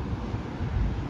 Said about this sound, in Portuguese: entrando um vento bem bom daqui